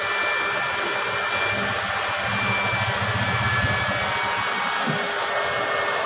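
A 10 kW solar inverter running under a load of around 20 amps gives off a steady, loud, close fan-like whir with a constant hum, unbroken throughout and with no talk.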